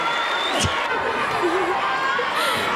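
A crowd of about 20,000 at a lucha libre professional wrestling match in Mexico cheers and shouts steadily, a dense continuous roar with occasional whoops rising out of it.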